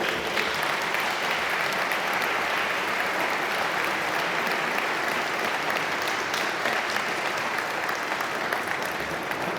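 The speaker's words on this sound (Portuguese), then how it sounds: "Eu gostava de pedir uma salva de palmas para todos eles." Sustained applause from a congress audience for the people who organized the event, an even wash of many hands clapping at moderate level, unbroken for nearly ten seconds.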